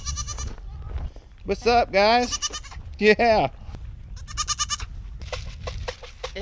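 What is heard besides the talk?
goats bleating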